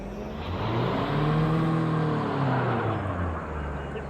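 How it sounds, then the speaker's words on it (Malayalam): A car drifts in a racing video game with traction control switched off, giving a steady loud engine whine and tire noise that rises and falls in pitch over a few seconds, with no talk. "ഇവിടെ നമുക്ക് ഡ്രിഫ്റ്റ് അടിക്കാം"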